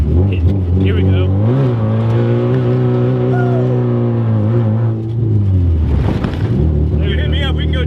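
A Nissan 240SX revs hard, its engine note climbing and holding at high pitch before dropping, heard close and loud with people talking over it.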